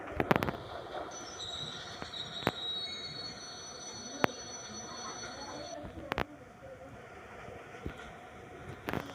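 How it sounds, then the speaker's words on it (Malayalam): Train rolling in a train-driving simulator game, a steady mid-level rumble with faint high squealing tones and occasional sharp clicks, no talking. "നമുക്ക് നമ്മുടെ ട്രെയിൻ നമുക്ക് കുറച്ച് പുറകോട്ട് ഇങ്ങനെ കൊണ്ടുപോകാം"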